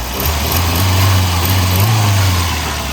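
A Volvo 240 Wagon engine runs at a steady idle, a loud close droning hum that holds even throughout with no voices.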